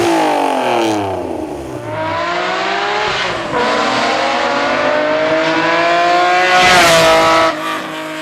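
A 2002 Acura NSX NA2, a mid-engine Honda sports car, in a Need for Speed racing game, loud close engine climbing through rising revs with gear shifts and a brief tire squeal, no speech.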